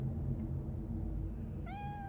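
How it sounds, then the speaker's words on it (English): A cat in the video game Cyberpunk 2077 gives a single short, clear meow near the end, rising out of a steady low background hum. "I have abducted a cat."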